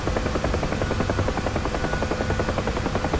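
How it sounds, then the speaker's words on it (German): A Huey helicopter flies close by, its rotor beating out a steady, rapid thump over a dense, loud engine roar that holds constant throughout with no voices. "Jo, aber trotzdem schöne Hubschrauber."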